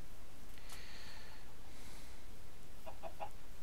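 Chickens in a video game farm area: a brief squawk near the start, then a quick run of three soft clucks near the end, faint against a steady low background.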